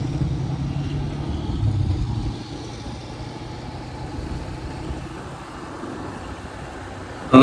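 A motorbike engine runs in third gear on a rough road in Pakistan, giving a continuous low rumble that is louder for the first two seconds and then settles to a steadier, quieter drone.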